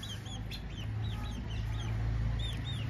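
Aseel chickens and roosters cluck and chirp around feeding time. Repeated short, high clucks sound close by over a steady background hum.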